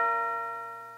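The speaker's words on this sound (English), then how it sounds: "when the bell struck one" A clock bell strikes a single time in a radio play, one clear ringing tone sustained alone and slowly fading over about a second.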